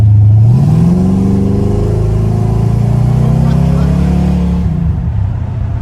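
A small-block Chevy V8 in a swapped Datsun 280Z roars at full throttle, its loud, deep engine note climbing steadily in pitch for several seconds before easing off, heard from inside the car.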